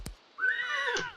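A horse whinnies in the Project Zomboid video game with a horses mod: one clear, drawn-out neigh of about half a second, rising and then trailing off, preceded and followed by brief thumps.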